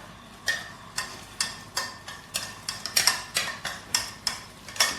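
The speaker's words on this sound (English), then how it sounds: "So we're just going to whisk in the butter." Butter whisked into hot caramel in a pan for a banana salted caramel cake: a steady run of brisk scraping strokes, about two per second, close and fairly quiet, with no talk.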